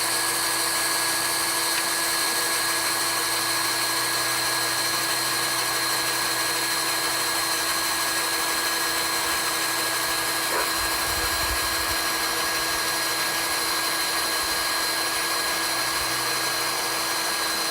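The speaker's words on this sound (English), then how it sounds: "I'm drilling through 3/16 steel." A drill runs continuously with a steady, high whining drone, boring through 3/16-inch steel with a nearly new bit, grinding on without pause for a long stretch.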